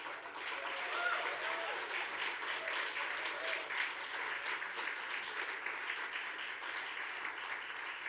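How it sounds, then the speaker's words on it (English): An audience at the WCERA 2020 awards ceremony cheers and applauds steadily for twelve award finalists, a dense wash of clapping and voices sustained throughout. "Can I also just get the loudest cheer for each of these 12 finalists?"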